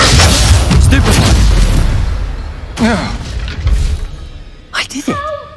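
Spell combat in Hogwarts Legacy produces a Stupefy cast among booming magical impacts, heavy thuds and whooshing bursts, followed by sharp zapping sounds and brief vocal grunts.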